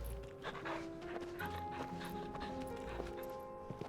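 Torgal, a dog in Final Fantasy XVI, pants in quick rhythmic breaths over game background music and footstep-like clops, fairly quiet and close.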